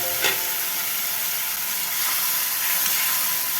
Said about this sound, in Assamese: বিলাহীও লগতে ভাজি লৈছোঁ